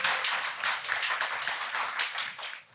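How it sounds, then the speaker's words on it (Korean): Applause from an audience of trainees at a firefighting training session, steady dense clapping throughout that tapers off near the end. "실습에 참여해준 교육생께 큰 박수 부탁드립니다."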